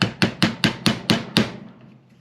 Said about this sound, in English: Use a nice sharp chisel, which I just happen to have one here